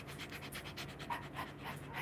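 A pet dog pants steadily and close by in a home kitchen, quick rhythmic breaths repeating throughout over a faint background hum.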